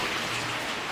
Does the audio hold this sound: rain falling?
yes